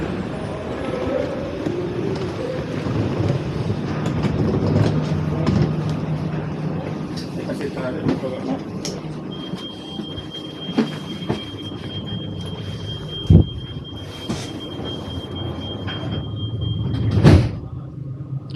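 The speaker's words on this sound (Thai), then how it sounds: "รถมาแล้ว รถไฟไม่มีคนขับนะคะ" A driverless metro train in Copenhagen rumbles in and draws up, with wheel hum, a faint high whine and a couple of sharp clunks, while people talk nearby.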